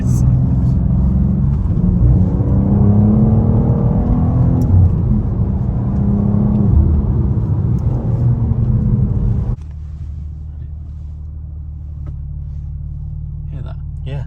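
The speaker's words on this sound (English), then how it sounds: "it changes engine or exhaust tone when you depress the clutch" BMW M2 with manual gearbox, engine and exhaust droning loudly while driving, then the tone drops abruptly to a lower, quieter rumble as the clutch is pressed.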